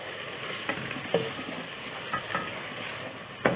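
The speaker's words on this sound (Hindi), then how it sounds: "अब इसमें मैं थोड़ा सा पानी डाल रही हूँ ताकि हमारा टमाटर अच्छी तरह से गल जाए" A little water goes into tomato masala frying in a pan for dhaba-style chana dal tadka. The pan gives a steady, close sizzle and hiss, with a few sharp spattering pops along the way.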